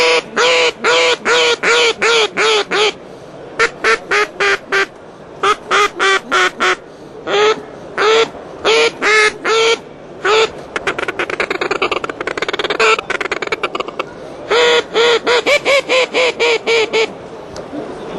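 A hand-blown duck call lure imitating a duck gives long runs of loud, rapid quacks in bursts, some with short gaps between them, close and with nothing else behind them.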